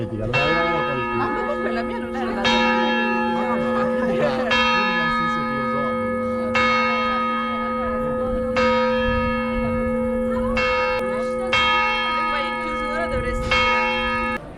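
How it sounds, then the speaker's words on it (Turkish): A church bell tolls repeatedly at a steady rhythm in Graz, Austria, its ringing tones overlapping and sustaining, loud and fairly close with some crowd murmur beneath. "Çıktım çan çaldı."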